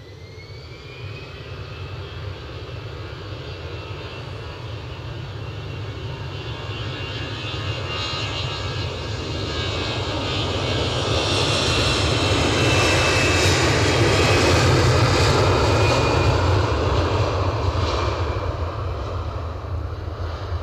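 A plane landing at Edinburgh Airport gives a loud, close roar of aircraft engines that swells steadily toward a peak about two-thirds of the way through and then eases slightly, with no talking.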